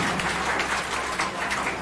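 Dense, continuous applause from an audience honouring a retiring deputy district education officer at a Punjab school gathering, loud and sustained with no pauses.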